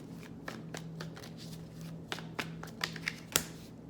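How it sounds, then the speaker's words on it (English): Tarot cards are shuffled by hand, giving soft riffling and slapping sounds with a few sharper snaps toward the end. Quiet and close, with no voice. "Let me go back and shuffle again."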